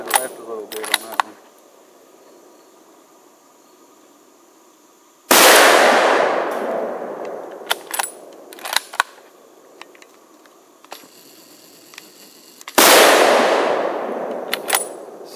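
Two loud, sharp shots from a Mossberg ATR 100 rifle fired at a can crack about seven seconds apart, each trailing off in a long echo, with faint clicks and handling noises between them.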